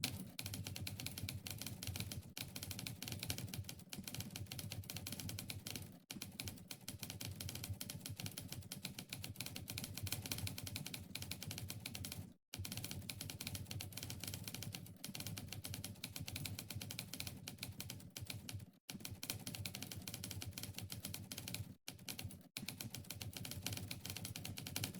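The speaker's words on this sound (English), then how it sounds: "let's have one session of touch typing" Touch typing on a computer keyboard at a fast pace, a dense, continuous clatter of key presses broken by a few brief pauses, close and steady with no voices.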